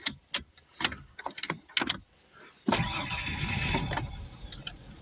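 A Nissan Pathfinder parked for 13 years cranks briefly and then fires up, settling into a loud, rough, steady idle close by after a series of short clicks and clunks.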